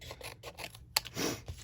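Scissors cutting around a paper card piece for a stamped tree ring card, a series of small quiet snips and rustles close by, with one sharper click partway through.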